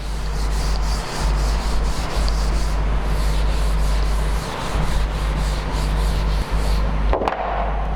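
Steady rubbing of an eraser or sponge across a classroom board, a continuous scratchy scrubbing in rhythmic back-and-forth strokes, close and fairly loud, with a brief knock near the end and no talk.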